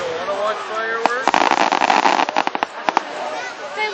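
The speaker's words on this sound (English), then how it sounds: "don't wanna watch fireworks?" A July 4th fireworks show in Grand Mound, Iowa, with a fast cluster of sharp crackling bursts and pops at middle distance, rising to a dense flurry and then thinning out, while people talk over it.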